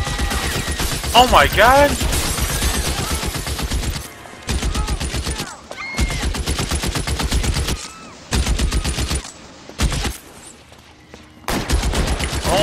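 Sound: Browning Automatic Rifle (BAR) gunfire in video game L.A. Noire

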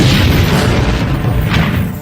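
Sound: bomb explosion in a movie scene

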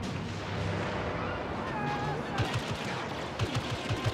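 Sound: blaster gunfire in video game Star Wars Battlefront

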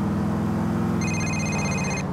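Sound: mobile phone ringing with Roman calling in the video game GTA IV

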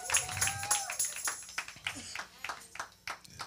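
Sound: church congregation clapping hands

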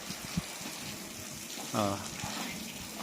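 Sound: water splashing while bathing an elephant

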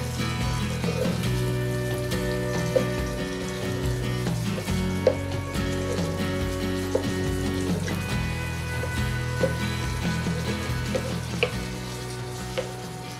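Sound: masala with quail eggs boiling in a pan

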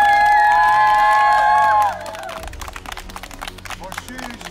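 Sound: children's camp audience applauding and cheering for Peti bácsi

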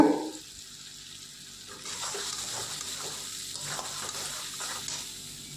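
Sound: ground spice paste being fried and stirred in a wok

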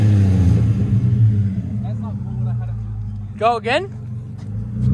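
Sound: Nissan car engine revving

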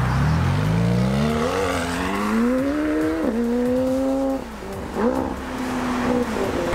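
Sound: McLaren 720S supercar driving away

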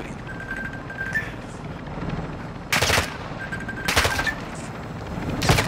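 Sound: gunfire in Call of Duty video game

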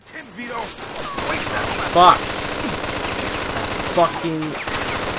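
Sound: gunfire in the video game Mafia 2

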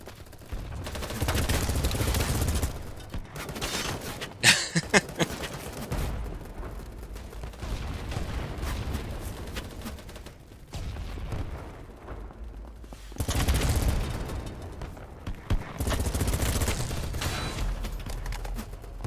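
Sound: gunfire in the video game Battlebit Remastered

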